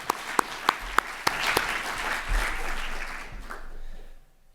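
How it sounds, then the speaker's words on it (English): Conference audience applauds the organizers, starting with a few sharp, distinct claps that swell into a steady wash of clapping before tapering off into quiet near the end. "Maybe a round of applause for the organizers"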